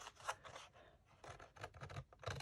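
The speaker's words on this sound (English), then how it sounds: "I'm at the intersection line and I'm going to cut it down at an angle" Paper scissors slice through vellum paper at an angle, a series of quiet, crisp snipping and scraping cuts in short bursts, close and alone.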